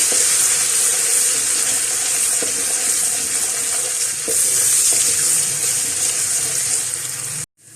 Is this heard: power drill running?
no